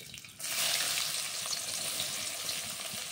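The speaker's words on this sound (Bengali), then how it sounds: "এরপর আমি দিয়ে দিচ্ছি পেঁয়াজ কুচি।" Chopped onion hits hot oil already seasoned with cardamom pods, bursting into a loud, steady sizzle close by that holds at full strength for several seconds with no talking.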